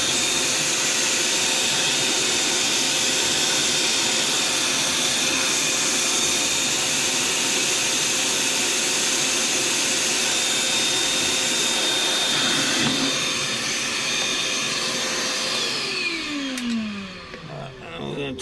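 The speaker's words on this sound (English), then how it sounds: "So we're gonna vacuum that up." A loud vacuum cleaner roars continuously with a steady high whine, its pitch dropping and wavering near the end as it sucks debris from the air and fuel mixture ports of a 2000 Workhorse P30 Chevy 5.7 V8.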